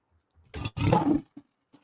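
A lion roars in a loud, close burst: a short growl, then a sustained rumbling roar, followed by a few brief trailing grunts.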